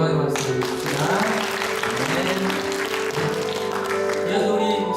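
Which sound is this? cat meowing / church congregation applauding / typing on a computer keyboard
church congregation applauding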